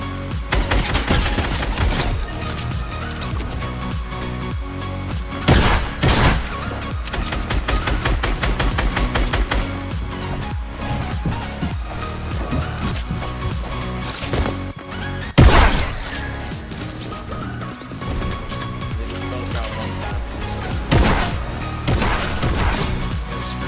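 Rapid automatic gunfire in the Fortnite video game rattles loudly in near-continuous streams of shots, with heavier blasts punching through around the middle and late in the run.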